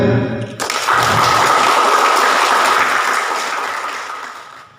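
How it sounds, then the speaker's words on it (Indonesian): Audience at a family gathering Bible reflection clapping together, a loud dense burst that starts abruptly after a brief moment of other sound, holds steady, then gradually thins out toward the end. "coba tepuk tangan lebih daripada 12"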